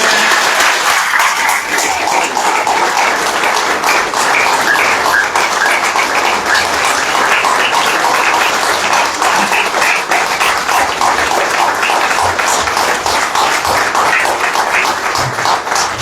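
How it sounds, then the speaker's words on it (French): Sustained, loud applause from a crowd honouring a president at a political gathering, dense clapping running evenly throughout with no voices over it. "Nous allons applaudir encore très fort le président."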